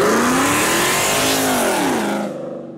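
A loud Nissan 350Z engine accelerates hard, a raspy, rising roar that climbs in pitch, peaks, then fades as the car pulls away.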